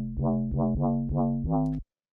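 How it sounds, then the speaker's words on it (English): A gritty, distorted synth bass plays four sustained notes in a steady rhythm, each with a swelling attack, ending abruptly after the last note. "So just kind of like a dirty sort of bass sound."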